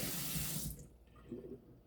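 A frozen water bottle is rinsed under a sink tap: a close, hissing stream of running water that stops abruptly partway through, leaving faint dripping and handling sounds.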